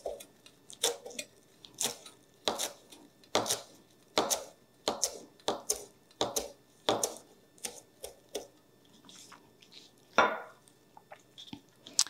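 A knife chops a bunch of herbs rolled together on a board, sharp irregular thuds spaced about half a second apart, close and fairly quiet with no talking.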